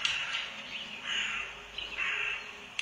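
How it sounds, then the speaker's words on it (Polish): A crow caws from a children's bird game toy, with several harsh, rasping calls in a row at moderate loudness and close range, and no voices over them. "Dobrze, wrona."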